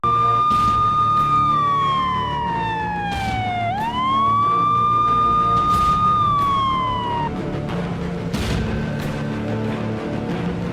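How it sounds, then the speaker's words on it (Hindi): Police sirens wail through a village area in Kasganj, one rising and falling tone sweeping down then back up, loud and continuous over a steady traffic rumble, with sharp knocks scattered through it. "पूरे इलाके में इसी तरह सायरन की आवाज गूंजती रही"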